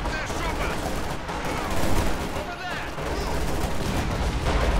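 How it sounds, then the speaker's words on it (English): Dense machine gun fire in a Company of Heroes 2 battle, rapid bursts rattling almost nonstop over a busy combat din. "See if we can machine gun a bunch of these guys down."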